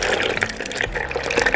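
Water poured into an aloe vera drink being prepared in a kitchen, a brief continuous splashing and gurgling fill, close and fairly loud, with no talk.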